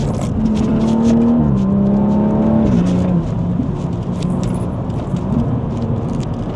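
BMW M135i fitted with a Milltek exhaust, heard from inside the car while driving on twisty roads: a steady engine drone with a rising then settling tone, loud and continuous with no talk.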